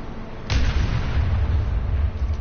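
C4 charges detonate in the Planetside 2 PS4 beta: one sudden, loud blast, followed by a heavy, sustained rumbling roar that lingers to the end.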